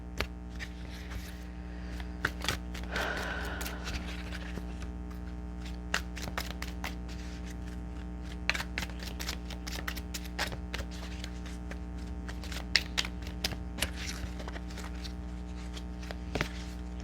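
Tarot cards shuffled and handled in a stack, with a rapid riffling burst early on followed by scattered soft taps and slaps of individual cards against a steady low background hum.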